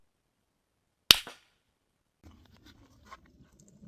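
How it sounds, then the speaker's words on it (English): A single sharp rifle shot from a counter sniper drill cracks loudly and close, trailing a brief echo, followed after a pause by faint shuffling and distant low voices. "I'd say that's a pretty good shot."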